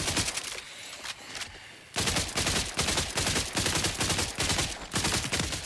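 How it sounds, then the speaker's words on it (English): Rapid automatic fire from a submachine gun in a video game, the shots coming as dense bursts with a short pause, loud and close, with no talking over it. "With an SMG."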